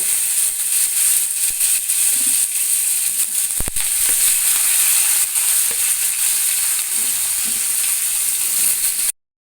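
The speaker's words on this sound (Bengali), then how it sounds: "এইবার একই তেলের মধ্যে কেটে রাখা ঝিঙের টুকরোগুলোও দিয়ে দিতে হবে ভেজে নেওয়ার জন্য" Ridge gourd pieces fry in hot oil left over from frying potatoes, a loud steady hiss and sizzle that runs unbroken at close range with one brief knock midway, then cuts off abruptly.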